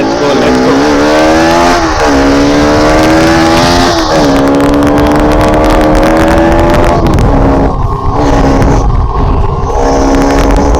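A Bajaj Pulsar RS200 motorcycle accelerates hard in first gear, its engine note climbing in repeated rising sweeps with wind roar, loud and close throughout.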